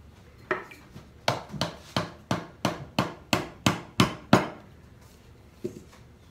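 A hammer drives wooden dowels home during the glue-up of a Shaker nightstand carcass, landing about ten sharp, evenly spaced blows, then one last tap after a pause.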